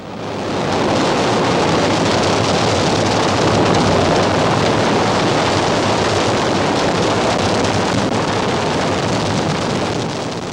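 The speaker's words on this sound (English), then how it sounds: "We have SRB ignition and liftoff." A Space Shuttle lifts off after solid rocket booster ignition, its continuous broadband roar swelling in within the first second and then holding loud and steady, like a distant rushing rumble.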